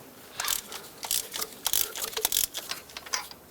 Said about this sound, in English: To replace this spark plug, use a spark plug socket and break it free.